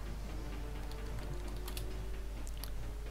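Typing on a computer keyboard, quiet scattered key clicks over a steady low hum, faint and close, with no voices.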